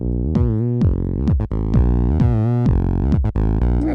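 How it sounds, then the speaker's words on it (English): Bias distortion on a Behringer TD-3 303-style synth run through a FuzzBillion pedal: a buzzy, gritty acid bassline with squelchy filter sweeps, repeating notes in a steady rhythm, loud and continuous with no talking. "Yeah, so that's a bit of sort of bias distortion."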